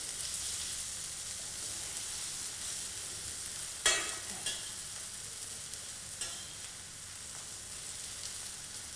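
Seer fish coated in curry-leaf masala fries in hot oil with a steady, close sizzle and hiss, broken by a couple of sharper crackles as it is stirred.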